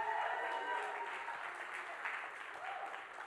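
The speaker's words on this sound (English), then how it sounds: "Somebody clap your hands and shout" A church audience claps steadily and cheers, a dense continuous wash of applause with scattered shouts throughout.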